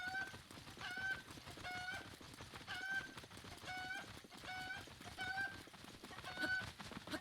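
A cucco chicken in a Zelda game squawks and clucks while being fried. Repeated sharp, high clucking bursts come at a steady rhythm, roughly one per second, over a faint crackling background.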